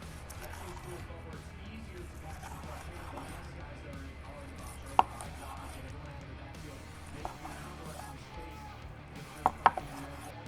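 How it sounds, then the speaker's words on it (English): A knife slices a reverse-seared tomahawk ribeye steak cooked medium rare at a tailgate, giving faint soft cuts against a board with a few sharp clicks near the end, under low background noise and occasional talk. "let's go ahead and start slicing some pieces here"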